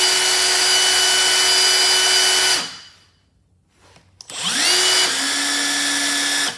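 Milwaukee M18 FID2 impact driver runs loud and steady for about two and a half seconds, cuts off into near silence, then spins back up and runs again, with a whining tone that shifts in pitch as it restarts.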